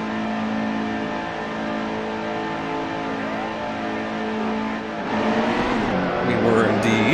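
Race truck in the Nascar Heat 2 video game at Michigan accelerating out of the pit, a steady loud engine drone that rises into a sharper revving surge near the end, with a voice speaking over it.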